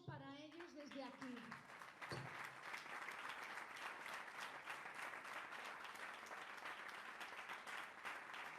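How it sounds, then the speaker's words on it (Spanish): Steady audience applause at a medical conference in Sabadell, Spain, dense and continuous clapping filling the room for several seconds after a short burst of speech at the start. "Un aplauso para ellos desde aquí."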